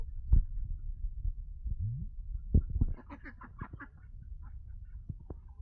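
Ducks standing on land beside water give a run of nasal quacks, several close together in the middle, over low rustling and thumping handling noise nearby.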